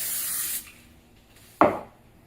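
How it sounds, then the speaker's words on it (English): A short hiss of aerosol cooking spray onto a baking pan, then a pause, followed by a second quick, sharp burst of spraying, close and clear. "I'm just going to spray it."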